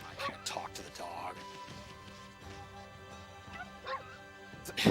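A dog barks and yips in the video game Okami, several short yaps over a steady in-game music bed, with a louder burst at the end.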